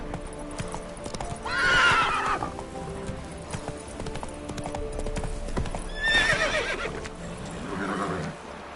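Roach the horse gallops in The Witcher 3, a rapid clip-clop of hooves running throughout, broken by two loud whinnies near the start and past the middle.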